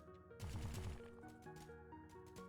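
Small rapid explosions from booms in a goblin video game crackle in a quick burst over electronic game music and tones, followed by scattered lighter pops.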